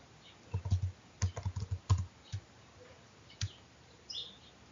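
Computer keyboard typed on in short bursts of clicky keystrokes at close range, a quick run of presses followed by a few isolated taps, with faint bird chirps in the background.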